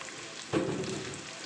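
Malabar spinach and mixed vegetables fry in a pan; quiet at first, a stir sets off a sudden swell of crackling sizzle that stays up close and continuous.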